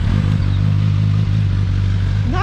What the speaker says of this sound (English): The stock exhaust actually doesn't sound too terribly shabby